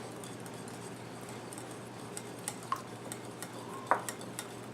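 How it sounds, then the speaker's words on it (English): Melted butter and an egg are whisked together in a bowl for pancakes, giving faint, quick clicks and taps of the whisk against the bowl that grow a little livelier toward the end, in a quiet room. "Now whisk those together."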